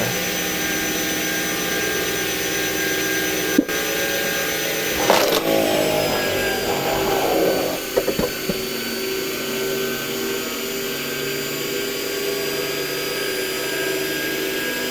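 A homemade log splitter powered by a washing machine motor and flywheel hums steadily, with a burst of knocks and cracking midway as it splits a stump about 80 cm tall and 30 cm across.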